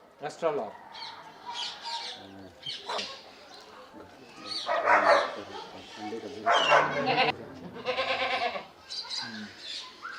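Amrohi breed goat bleating on a farm, several short nasal calls scattered among people talking nearby, moderately close and mixed in with the conversation.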